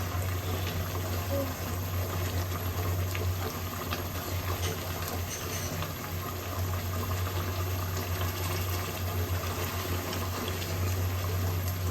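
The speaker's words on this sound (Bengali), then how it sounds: "আমি কিন্তু গোশটা খুব সফটভাবে সিদ্ধ করব" Meat simmering in a pot of water for biryani, a steady, even bubbling and hissing hum that continues unchanged throughout, with no speech over it.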